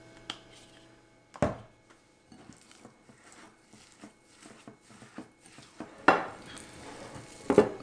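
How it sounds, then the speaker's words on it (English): Turkey burger mix of ground turkey, salt, pepper and ketchup worked together in a bowl, heard as quiet soft squelching and scraping with a few sharper clinks of utensil against the bowl. "I'm going to mix all that together"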